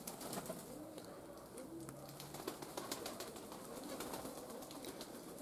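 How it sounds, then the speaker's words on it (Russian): Racing pigeons coo softly in a loft, repeated low throaty calls mixed with scattered rustles and pecking clicks, near and moderately quiet, with no one speaking. "Вот голуби, которые на соревновании."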